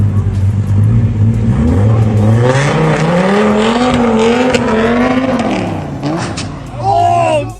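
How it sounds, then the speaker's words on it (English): A luxury car engine roars and revs loudly and continuously as its tires lose traction, the pitch climbing and falling, with a brief dip before another loud surge near the end. "A luxury car blips its engine to flaunt its power"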